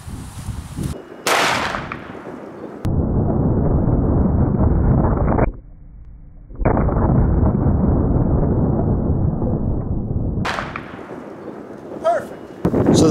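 Gunshots from a 10mm or .44 Magnum fired into ballistic gel outdoors, a few sharp loud cracks separated by long stretches of heavy wind buffeting the microphone.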